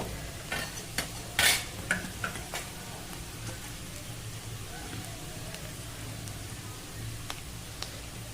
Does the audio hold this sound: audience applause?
no